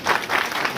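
Loud, continuous clapping from an audience at a BJP Women's Day event in Kathua, a dense crowd applauding steadily with no voices over it.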